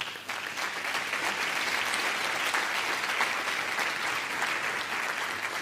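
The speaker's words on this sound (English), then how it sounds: "A big applause." An audience applauds to welcome a speaker at a talk on strategic communication at the German Foreign Office, a dense steady wash of clapping that holds evenly for several seconds.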